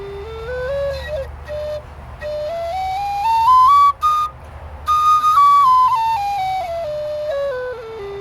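A Chieftain low D whistle plays a slow, clear melody outdoors in warm weather, its pure tone stepping up and down in sustained notes with two short breaks for breath, steady and fairly loud with a faint low hum underneath.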